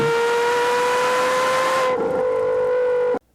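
A Porsche Carrera GT exhaust note holds a steady, high-pitched wail with clear harmonics. It dips slightly in pitch partway through, then cuts off abruptly, with no voices.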